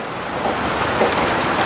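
Rain falls steadily in a dense, even hiss of drops, loud and continuous throughout, with no distinct voices over it.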